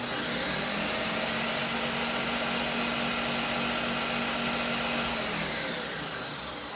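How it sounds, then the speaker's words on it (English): A blender mixes egg yolk and butter with a loud, steady motor whine at close range that keeps an even pitch, then eases off slightly at the end, with no talking. "the recipe just simply requires to go ahead and just in a blender mix this first. So I'm going to give this a slow mix"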